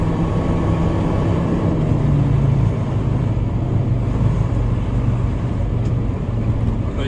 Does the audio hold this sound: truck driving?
yes